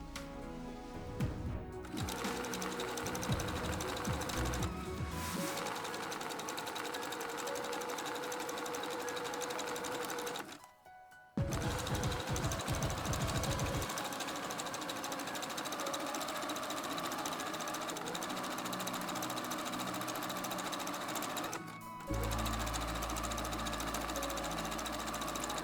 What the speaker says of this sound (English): I'm just sewing the elastic in place and slightly stretching it while doing so.